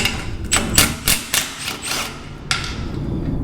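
An impact wrench removing bolts on an excavator during a hydraulic service, several short loud rattling bursts in quick succession followed by one more after a pause, close by over a steady background hum.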